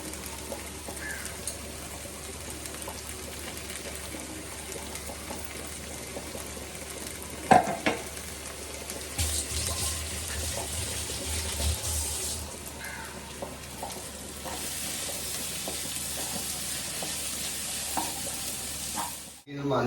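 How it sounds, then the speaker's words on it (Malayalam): Ginger and green chilli mixture for chicken curry being stirred and mixed in a frying pan, steady sizzle with occasional spatula scrapes and a sharp clink partway through, no talking. "നല്ലപോലെ മിക്സ് ചെയ്ത് കൊടുക്കണം"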